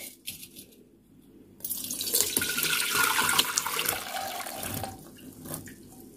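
Water splashes and trickles as soaked soya chunks are lifted out of a bowl for soya Manchurian, a quiet start followed by a few seconds of running, dripping liquid close by.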